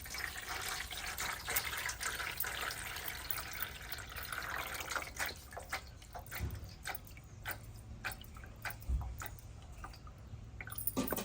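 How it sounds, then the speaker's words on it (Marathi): Fresh coriander leaves get a second rinse in clean water during prep for Vidarbha-style crispy sambhar vadi, with close, continuous splashing and swishing that grows more uneven and choppy toward the end, and no voices. "आता परत दुसऱ्या पाण्याने स्वच्छ धुवायची"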